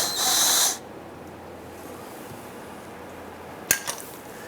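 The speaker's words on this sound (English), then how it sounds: "I'm going to remove the last bolt in the back corner here." A wrench works loose the last bolt on the rear corner of a 2005-2010 Chrysler 300 transmission pan: a short, hissing mechanical whir up close, then quiet, then a couple of sharp metallic clicks.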